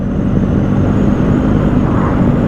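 A BMW R 1250 GS Adventure motorcycle engine runs at steady revs through an upshift, giving a continuous loud, low rumble with a faint whine and wind noise over it.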